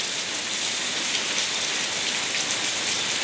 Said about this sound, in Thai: วังกาแจ จังหวัดตราดพายุเข้าอีกแล้วนะคะ วันนี้คาดว่าจะตกทั้งวันค่ะ